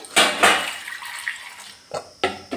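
Water poured into a bowl in a home kitchen, a few close splashing gushes in short bursts with brief pauses between them.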